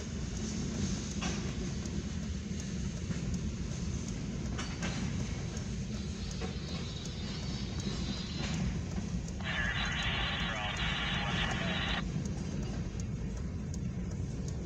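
A westbound CFE mixed freight train from Lima, Ohio, bound for Fort Wayne, rolls past the Wall Street grade crossing and diamond in Van Wert. It makes a loud, steady, close rumble throughout, with a brief brighter metallic squeal and clatter partway through.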